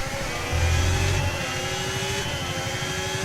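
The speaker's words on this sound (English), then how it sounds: "Not a healthy sounding engine. You can hear it from the back." A Formula 1 car in the F1 25 video game with an unhealthy engine gives a steady, rough mid-pitched drone, with a brief louder low swell near the start and faint whining tones above.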